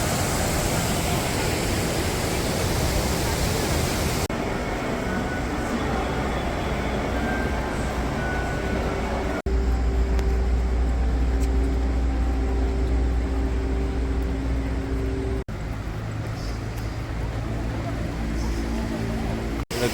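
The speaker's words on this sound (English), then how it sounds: "Now we can't hear any street noise and all we can hear is that waterfall." A waterfall in South Korea roars as a continuous broadband rush of falling water, loud and close, with abrupt shifts in tone at a few cuts and no street noise.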